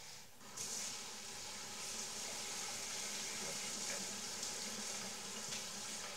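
A kitchen tap runs in a steady rush of water while boiled eggs are peeled beneath it. The flow starts just after the opening and then holds evenly with no talk.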